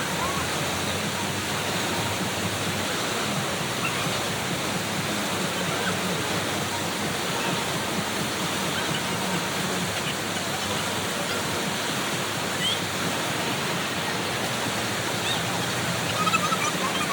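Steady broadband rush of water splashing and pouring at a water park, continuous and fairly close throughout, with no clear speech over it.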